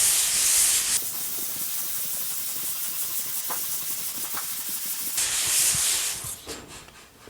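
Harsh, steady abrasive rubbing close by as epoxy primer on a GTO car body is sanded, with louder bursts of scraping at the start and again near the end, then tapering off.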